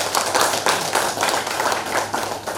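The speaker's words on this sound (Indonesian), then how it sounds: "Selamat dan tepuk tangan buat kita semua." An audience claps continuously at an award ceremony, a dense, even patter of many hands at moderate distance without a break.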